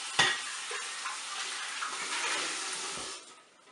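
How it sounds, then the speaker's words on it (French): Water runs and splashes while a Cookeo cooking bowl is rinsed, a steady close rush lasting about three seconds with a couple of knocks from the bowl, then fading. "Je rince ma cuve."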